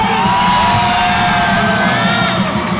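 Provincial supporters at a northeastern Thai regional qualifying contest cheer together on cue, a loud, dense roar of shouts, whoops and yells sustained evenly across the whole moment.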